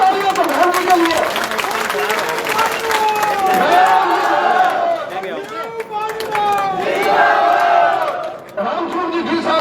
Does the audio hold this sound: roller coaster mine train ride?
no